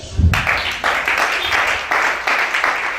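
A church congregation bursts into applause during a sermon, loud, dense clapping from many hands filling the room steadily right after a short low thump.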